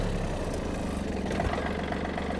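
A Yanmar F-200 mini tractor's small engine idles steadily and close by, a constant low rumble with a faint rhythmic knock and no talking.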